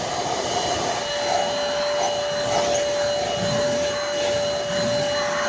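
An APOSEN H20-4 handheld cordless car vacuum runs steadily while cleaning a car's interior, a continuous close whine with a sharp tonal hum, its pitch shifting slightly as the nozzle scrapes and is pushed across upholstery.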